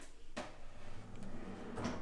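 A drawer in a mud bench slides open or shut, giving two brief wooden knocks about a second and a half apart against a quiet room.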